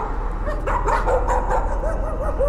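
Dog barking in the horror video game Layers of Fear, a run of sharp, fairly loud yelps and barks over a constant low ambient drone, with no talking.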